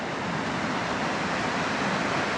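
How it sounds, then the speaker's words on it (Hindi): Mountain stream water rushing steadily in a remote Himalayan valley in Kashmir, a dense, continuous roar with no breaks, loud and close throughout. "कितना पानी आगे से जा रहा है"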